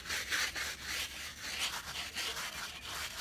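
A scrubber agitating Purple Power cleaner, a continuous rough rubbing swish with rhythmic back-and-forth strokes, close and moderately loud, no voices.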